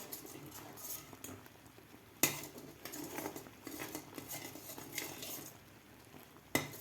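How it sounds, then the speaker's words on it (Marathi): A spoon scrapes and clinks against a pot while jowar flour ambil is stirred, soft repeated scraping strokes punctuated by a few sharp metallic knocks, close by with no talking. "एकसारखं आपल्याला याला ढवळत राहायचं आहे"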